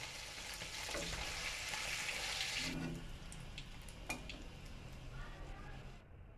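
Fenugreek seeds, bay leaf and green chilli are dropped into hot oil in a kadai while making palak paneer. A loud burst of sizzling fades after a few seconds into a softer hiss with a few light clicks.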